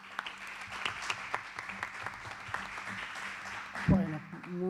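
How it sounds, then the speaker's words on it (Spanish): An audience at a university academic event applauds a department director, with moderately loud, steady clapping and voices mixed in. "Les pido un aplauso para él."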